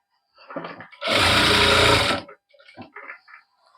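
A sewing machine stitches fabric for a child's sharara outfit, one loud sustained run of about a second, with quieter handling rustles before and after.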